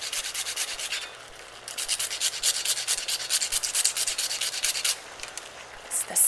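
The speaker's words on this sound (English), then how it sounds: "when you freshly grate the cinnamon" A whole cinnamon stick is grated in quick rasping strokes, a rapid run of rough scrapes heard alone at close range. A brief pause comes near the start, and the strokes trail off toward the end.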